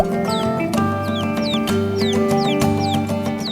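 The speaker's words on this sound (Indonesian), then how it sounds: "Suara ciap-ciap anak ayam yang datang akan lebih difokuskan oleh bulu-bulu di muka" Baby chicks peep in rapid, high, falling chirps, repeating about every half second over a steady tonal background drone.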